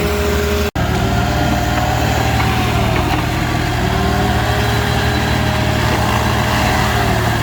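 A small backhoe engine idles steadily while backfilling a trench on a job site, a continuous close, low mechanical drone with one brief dropout near the start and no voices.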